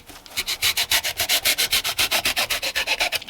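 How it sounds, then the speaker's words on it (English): An old hacksaw blade shaves cured Loctite foam fill in about twenty quick, evenly spaced scraping strokes, each a loud raspy swipe in a steady back-and-forth rhythm with no voices. "This is our Loctite foam fill. We're just going to shave that off."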